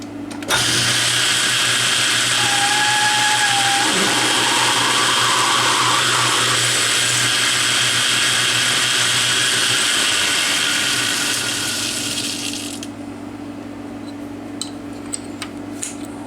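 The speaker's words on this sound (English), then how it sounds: "And I'm going to drill it about 1 inch deep." A 29/64 drill bit boring about an inch deep into a metal workpiece on a Myford 10 lathe, a steady loud whirring grind held for around twelve seconds before spinning down.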